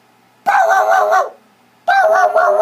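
A voice imitates a dog barking while a children's picture book about a boy and a dinosaur is read aloud, with two drawn-out, sing-song barks separated by a short pause.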